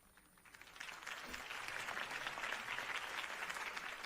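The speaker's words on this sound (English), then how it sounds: "If only Mr. Wayne, my campaign's largest backer, could have heard that applause" Crowd applause following a campaign speech in the Batman Telltale game swells from quiet into a steady, dense patter of many hands clapping, heard alone.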